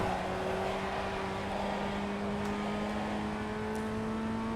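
A Ray FF1600 Formula Ford race car in the iRacing sim at Okayama International, held at full throttle in second gear, drones loudly and steadily as its engine pitch climbs slowly.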